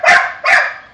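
A dog gives two sharp, loud barks close to the microphone in quick succession, with silence around them and no talking.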